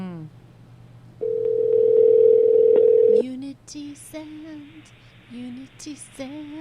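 A continuous phone dial tone sounds for about two seconds over a low hum, then stops and a voice starts talking.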